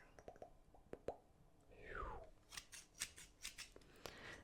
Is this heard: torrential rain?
no